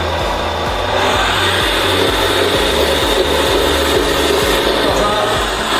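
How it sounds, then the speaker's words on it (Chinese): A simulated engine sound from a metal RC hydraulic bulldozer, a JDM 98 D9T model, runs as a loud, steady electronic drone with a regular low-pitched chugging pulse and broad noisy texture throughout. "就是当车辆行驶起来，它会有一个仿真模拟发动机的音效"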